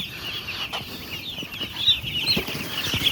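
Farm chickens cluck in short, scattered calls over steady background noise, with a few sharper bursts near the end and no talking.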